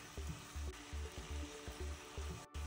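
Chicken and mushrooms sizzle quietly in a frying pan while a utensil stirs them in regular scraping strokes, repeating about every half second against a soft, constant sizzle.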